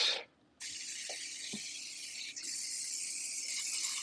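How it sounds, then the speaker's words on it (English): A butter-flavoured cooking oil spray can hisses in a long continuous burst after a brief first spritz, close and steady, with a couple of soft clicks. "let me get a little more butter spray on that."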